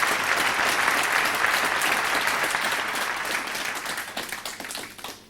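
Big, warm applause from a concert audience greeting the singer, dense clapping held steady and loud for several seconds before thinning and fading out at the end.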